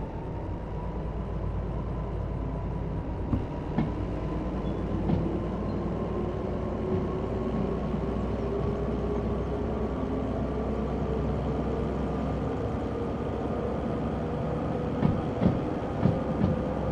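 A DH4 Red Devil diesel-hydraulic locomotive in Derail Valley with a steady low engine drone and a rising whine as it gets underway, plus occasional clanks and wheel clicks, continuous and close, with no talking.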